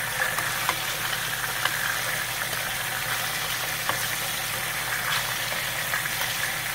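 Fish and chips frying in hot oil, a steady dense sizzle and crackle holding even throughout with faint pops, close and continuous with no talk.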